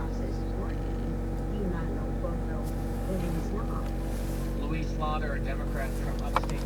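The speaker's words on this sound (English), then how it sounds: "4 degrees outside, and of course the motor is running" Chevy Volt gas engine running in sub-zero cold, about 4 degrees outside, heard from inside the car as a steady, unbroken low hum with faint voices underneath.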